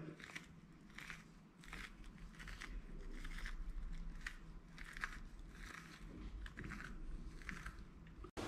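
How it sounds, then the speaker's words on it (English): Spoon scraping out the soft inside of a marrow for Maltese stuffed marrow, a steady run of close, gentle scraping and crunching strokes repeating through the whole stretch with no talk. "Really do it with a spoon."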